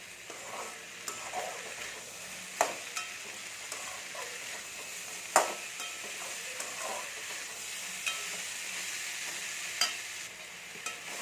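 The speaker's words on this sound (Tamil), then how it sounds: "கொஞ்சம் மீடியம் ஃப்ளேமில் வச்சு வதக்கிக்கோங்க" Ivy gourd stir-fry sautés on a medium flame, a steady soft sizzle broken by intermittent scraping clicks of a spatula against the pan, with no talking.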